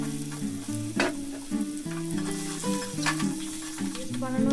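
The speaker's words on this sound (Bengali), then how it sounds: "লাল লাল করে আলুগুলো ভেজে নিতে হবে।" Potatoes fry in a pan for muri ghonto, a steady broadband sizzle with occasional stirring knocks running beneath continuous melodic background music.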